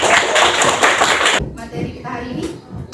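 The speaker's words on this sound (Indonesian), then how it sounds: "Oke, tepuk tangan untuk kita semua" Schoolchildren clapping together in a primary school classroom, a loud rhythmic burst of claps that stops abruptly, followed by quieter shuffling and scattered taps as voices speak.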